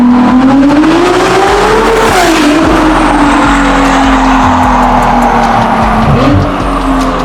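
A Ferrari 296 GTB fitted with a Novitec exhaust system, heard as a loud, close engine drone. The pitch climbs, dips sharply, then holds steady and drops again near the end.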